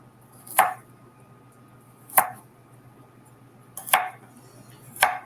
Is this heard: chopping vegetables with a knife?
yes